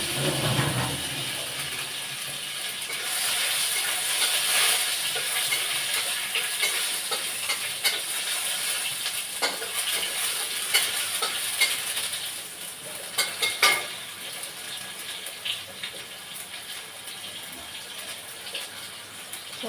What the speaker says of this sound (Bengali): লঙ্কা ফোড়ন